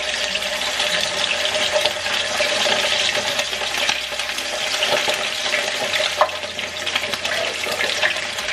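Seasoned chicken wings sizzle steadily in a hot pan, a loud, dense crackle of frying oil with a few sharper pops and scraping stir sounds throughout.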